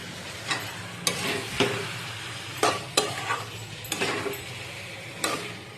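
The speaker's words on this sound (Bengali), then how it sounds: "মশলা জলটা মিলিয়ে একটু জলটা দিয়ে নাড়াচাড়া করি" Mutton curry being stirred in a pot after spice water is added, repeated sharp spoon scrapes and knocks at irregular intervals over a low simmering sizzle.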